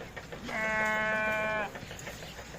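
A castrated male goat bleats once in a long, wavering, nasal cry at a Lahore livestock market ahead of the sacrifice season, with faint market noise around it.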